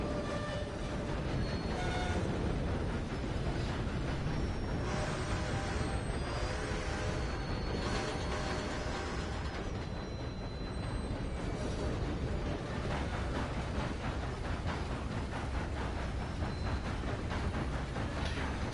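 A steam locomotive train in Red Dead Redemption 2 runs continuously, a loud steady rumble of wheels and carriages on rails with rhythmic clatter and faint hiss, no voices over it.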